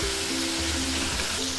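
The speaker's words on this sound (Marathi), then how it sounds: "टोमॅटोला आपण असं तेलामध्ये मऊ करून घेतो." Tomatoes softening in hot oil in a pan for a spicy ridge gourd curry, giving off a steady, close, continuous sizzle with no voices.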